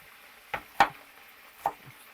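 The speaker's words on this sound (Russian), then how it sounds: "Я спокойно, пока у меня есть время, ребята, нарезаю лучочек." A kitchen knife chopping onion on a board, three distinct cuts with pauses between, close and fairly quiet against a near-silent background.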